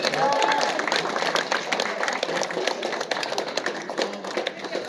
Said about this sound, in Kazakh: Танитын адам ұқсап шапалақ ұрайық та бір жақсылар,